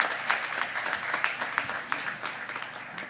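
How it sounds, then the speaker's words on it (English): Applause from a conference audience at an institute's annual inaugural session, a steady patter of many hands clapping at moderate distance, continuing evenly without voices for the full stretch. "can you have a round of applause for the VIP?"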